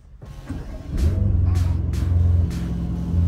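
A Mercedes-AMG GT Black Series engine fires up close by and settles into a deep, rumbling idle with a few short throttle blips, and a voice speaks briefly under it.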